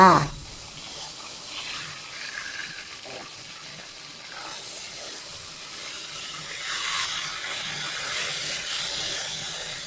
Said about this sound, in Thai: เราก็ทอดโดยใช้ไฟกลางค่อนข้างอ่อนนะคะ ทอดไปเรื่อยๆ ค่ะ